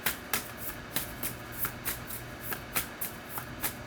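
Animal spirit cards shuffle in a quick, regular rhythm of soft papery riffles and slaps, about a dozen close bursts over a steady faint background hiss.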